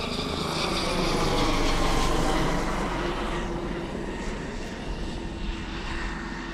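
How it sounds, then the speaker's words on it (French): Steady helicopter engine drone, loud and continuous, with a low rumbling throb that fades slightly toward the end as it passes overhead on the Île de Ré, France. "Il y a toujours une surveillée là-bas par un hélicoptère."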